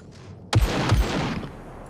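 Gunfire in the SCUM survival game: two sharp, loud shots in quick succession, each followed by a rolling echo that fades over about a second.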